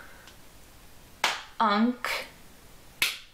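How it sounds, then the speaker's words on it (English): Several sharp hand claps marking out the syllables of a spoken word, spaced irregularly between bursts of a person speaking. "Can you clap it with me?"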